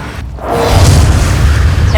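A Bombarda blasting spell from Hogwarts Legacy bursts in a single loud, close boom that swells sharply after a brief lull and then rolls on in a heavy, sustained rumble.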